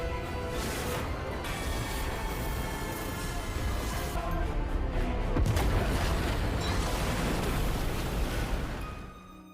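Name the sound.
explosion in a plane crash movie scene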